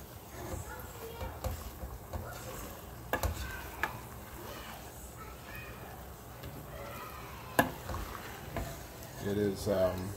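Water bubbles and sizzles steadily in a pan while a utensil stirs and scrapes now and then, with a few sharp clinks, while cooking deer meat and potatoes.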